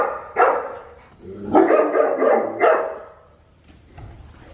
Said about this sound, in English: they got this dog that's sitting here barking at my door